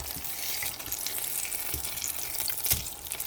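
Slices of Spam frying and browning in a pan, a loud continuous crackling sizzle with a few scraping bumps from turning the meat, heard close up.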